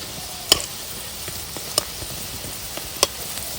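Puffed rice snack pieces frying in oil, a soft continuous sizzle broken by three sharp pops or clinks spaced about a second apart, no talking.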